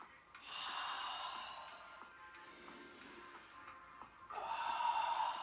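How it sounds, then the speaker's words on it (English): Slow, deep breathing during an embodiment energy practice, soft and close, with a long drawn inhale swelling and easing before a stronger breath rises near the end. "Just continuing this breath."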